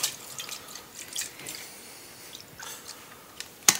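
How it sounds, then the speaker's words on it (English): Water is poured in small amounts into a container holding residual sediment during a sand specification check, giving soft drips, splashes and wet squishing sounds, fairly close and quiet. "Adding a small amount of water to the container to get the residuals sediment."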